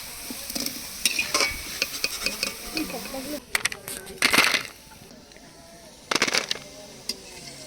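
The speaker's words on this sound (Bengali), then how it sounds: "পকোড়াগুলো লাল লাল ক্রিপসি করে ভেজে নেব যাতে এরা মুচমুচে হয়" Mini chicken pakoras deep frying until crispy, a close sizzle broken by scraping stirs and a few louder bursts of bubbling oil.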